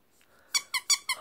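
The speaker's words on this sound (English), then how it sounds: "It goes squeaky squeak." Squeaky pet toy giving four sharp, high squeaks in quick succession after a faint lead-in, close and clear with no talk over it.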